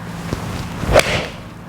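A golf shot struck with a Callaway APEX TCB iron gives one crisp impact click followed by a short swish, heard alone in a quiet outdoor setting.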